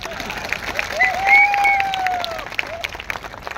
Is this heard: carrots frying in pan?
no